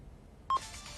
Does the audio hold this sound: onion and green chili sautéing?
no